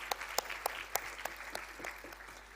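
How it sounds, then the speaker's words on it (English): Sparse, faint clapping at a university convocation: a few distinct, evenly spaced claps ring out over a quiet room before fading. "A big round of applause for Ms. Avni once again."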